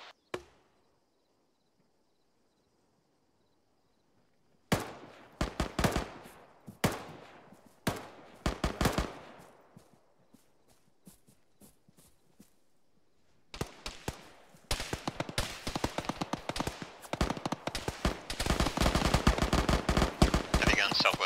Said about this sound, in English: Heavy gun southwest of two.